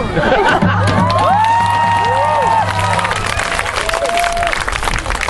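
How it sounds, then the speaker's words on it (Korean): Audience applause and cheering at a traditional Korean tightrope walking performance, a steady roar of clapping with whoops and whistles that swells, then thins toward the end, with voices mixed in. "여러분 그럼 박수도 받았으니까"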